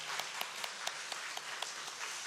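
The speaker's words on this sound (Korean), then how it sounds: "박수로 환영합니다" Sparse applause from a church congregation welcoming a guest during a Sunday worship service, quiet and distant, with a few individual claps standing out at a steady, loose rhythm.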